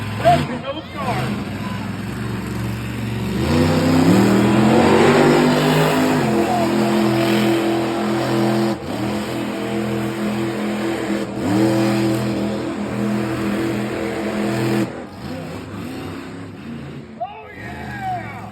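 A Killer Bee monster truck with a 1,500-horsepower blown, injected alcohol-fuel engine revs loudly at a raceway, the roar rising and holding with crowd and announcer voices mixed in.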